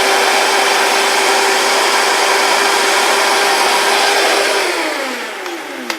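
Vitamix blender running at a steady high-pitched whir, close and loud, then spinning down as it is switched off near the end, with no talk.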